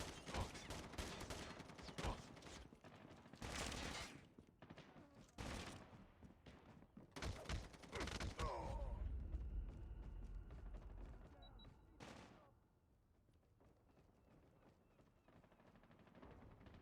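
Revolver fire in Call of Duty Mobile, a scattered run of sharp, loud shots with short gaps in between, then quieter game ambience near the end.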